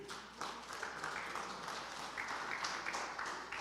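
A church congregation applauds during a sermon, a faint, steady wash of clapping from a crowd heard at a distance.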